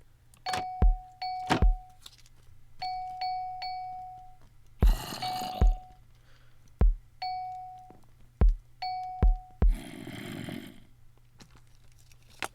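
Morse code in Minecraft played with note block bells and drums: short crisp thumps alternate with bright sustained bell tones in irregular groups, with a brief noisy rustle near the end and no speech.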